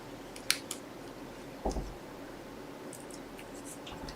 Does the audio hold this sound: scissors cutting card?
yes